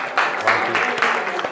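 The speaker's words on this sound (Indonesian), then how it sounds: "Tepuk tangan untuk Wafi, ya" A school audience applauds a student candidate named Wafi during a student council vision-and-mission debate, a short burst of close, lively clapping with irregular sharp hits.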